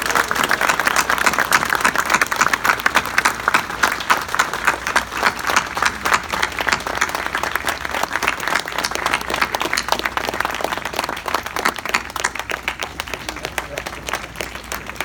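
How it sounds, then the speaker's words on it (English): Audience applause at an outdoor statue unveiling ceremony at Keeneland in Lexington, Kentucky; dense, sustained clapping from a sizable crowd, loud and steady for the full stretch before slowly thinning near the end. "sign of appreciation with a wonderful applause"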